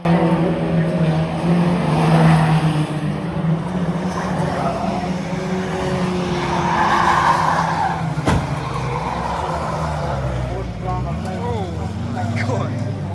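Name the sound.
stock cars racing, skidding and hitting the wall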